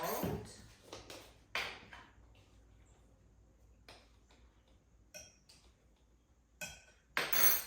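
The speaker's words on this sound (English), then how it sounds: "We have our sugar and our eggs. I'm gonna mix it up just a little bit." Utensil mixing sugar and eggs in a bowl for German chocolate brownies, heard as scattered clinks and scrapes in short bursts, some louder near the start and end, with quiet gaps between.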